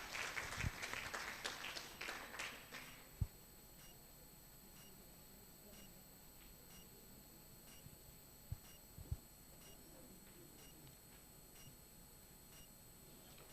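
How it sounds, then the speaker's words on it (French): Audience applause welcoming a speaker to the podium at a research conference, a brief burst of clapping that fades within about three seconds, leaving a quiet room with scattered knocks and clicks. "Sous vos acclamations."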